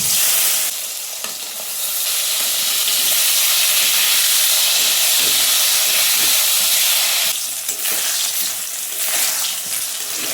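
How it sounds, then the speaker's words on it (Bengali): Salted, turmeric-coated eggplant dropped into hot oil, giving a loud, continuous close sizzle and hiss that dips briefly and surges again near the end, with no one talking. "আগে বেগুন ভেজে নেব"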